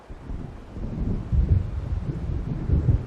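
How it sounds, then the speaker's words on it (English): Thunder of an approaching storm in Alan Wake Remastered, a low distant rumble rolling and swelling over about three seconds, mixed with gusting wind noise, with no talk over it. "It seems there's a storm coming."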